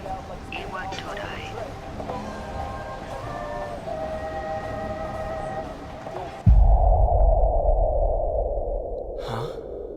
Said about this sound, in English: This is the final train bound for Tatsumi Port Island.